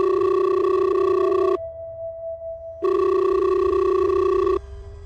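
A telephone rings loud and close with a steady electronic tone in two long bursts separated by a short pause. No voices are present.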